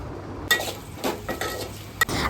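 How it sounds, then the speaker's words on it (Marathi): Curry leaves are sautéed in a pan with a soft, continuous sizzle. A spatula scrapes and taps against the metal several times, giving a few distinct clinks and stirring strokes, close up and with no talking. "आता याच्यामध्ये कढीपत्ता घालून चांगलं परतून घ्यायचं आहे"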